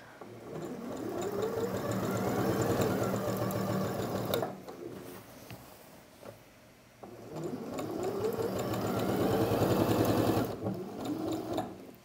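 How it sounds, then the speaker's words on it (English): A sewing machine stitches a quarter-inch seam along the curved armhole of a garment, running in two long steady bursts with a brief quieter pause between them, its fast mechanical whir close and continuous. "So I'm just sewing along that curve with a 1/4 seam allowance"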